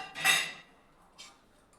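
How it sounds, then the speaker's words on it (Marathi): Roasted peanuts tumble into a mixer jar with a short, bright rattling clatter, followed a moment later by one faint clink, close by and otherwise quiet. "त्यामध्ये हे मी शेंगदाणे टाकले"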